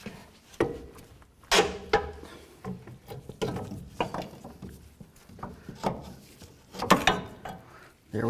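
A ratchet working loose a sway bar link on a 2007-2014 Cadillac Escalade during a front CV axle job, heard as scattered close clicks and metallic clunks in irregular bursts.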